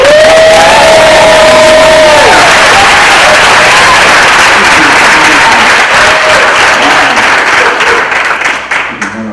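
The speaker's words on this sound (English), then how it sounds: "please give a big round of applause for Jared Waterworth" A comedy night audience applauds and cheers loudly for an arriving stand-up comedian, with dense continuous clapping and shouts and whoops rising over it, fading slightly at the end.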